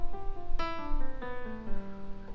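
Keyboard playing a Mixolydian mode on the white notes: a handful of sustained, ringing tones struck one after another at a moderate pace, fairly quiet and alone, with low hum underneath.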